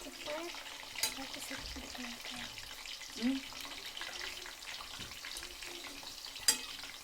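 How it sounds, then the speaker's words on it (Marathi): Steady crackling sizzle of raw banana wafers frying in boiling oil, continuous and close, with a couple of sharp clinks and faint voices in the background. "तर बघा कशी उकळी आली तेलाला आमचे वेपर्स कसे उकळू राहिले"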